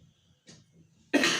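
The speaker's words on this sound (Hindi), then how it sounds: "खांसी" A single short cough from a man, loud and close, following a few soft breathy sounds in an otherwise quiet room.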